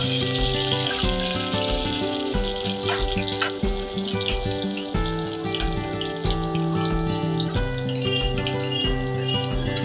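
Steady crackling sizzle of spices tempering in hot oil, loud and close, with background music playing throughout.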